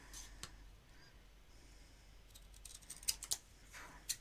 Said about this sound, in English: just cut round it using my scissors.